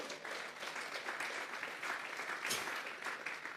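Church congregation applauds during a Spanish-language sermon, a faint, steady round of clapping from a gathered crowd, heard distant and without interruption.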